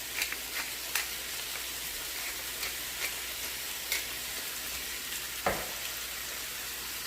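Smash burger patties topped with Vidalia onions sizzle steadily on a hot griddle, a continuous close crackle with occasional sharper pops and spatters, no voices.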